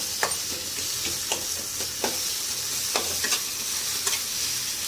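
Tomato with green chillies and spices fries in a pan for khichdi, a steady close sizzle broken every second or so by sharp scraping strokes of a spoon stirring the mixture.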